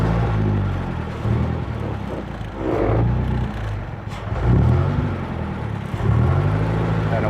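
A 1929 blower Bentley's engine revs loudly and close in strong low rumbling surges, rising and falling several times as the car pulls away, with no talk over it.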